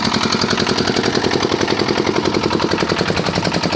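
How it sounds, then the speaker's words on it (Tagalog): An irrigation water pump motor runs steadily out in a rice field, a loud, close, rapid pulsing engine chug that holds an even rhythm throughout with no voices. "Ayan po yung motor oh."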